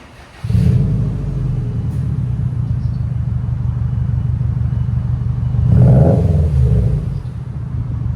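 A 2015 Subaru WRX STI with a 2.5L turbo engine and MBRP straight-pipe exhaust starts and runs with a loud, deep rumble, then revs up once around the middle before settling back to a steady throbbing idle.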